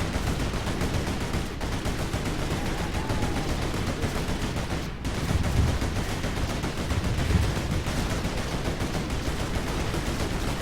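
Quad cannon gunfire from the Rise of the Reds real-time strategy game rattles on without pause, a dense and steady barrage of rapid shots that fills the whole stretch.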